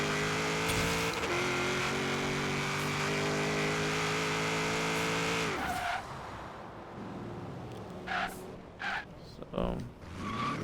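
A 1991 GMC Syclone with a V8 and all-wheel drive accelerates hard through short first and second gears, the engine revving loudly with rising pitch before a shift, followed by quieter idling and a few brief blips while someone talks.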